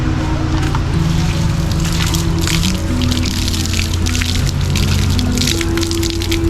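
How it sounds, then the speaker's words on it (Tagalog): A strong stream of running water gushes steadily and close by, a loud continuous rush with splashy texture. Low hum and tonal sounds run beneath it the whole time. "Lakas ng tubig, lakas oh."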